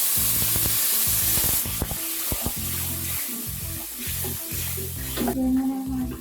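Water poured into a pan of sizzling ginger and spice masala, a close, loud hiss and spray of steam with stirring scrapes throughout and a sharp surge of sizzling near the end.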